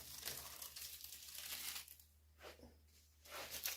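Masking tape is peeled off an N gauge model railway layout in soft, close crinkling and tearing strips, quiet bursts separated by short pauses.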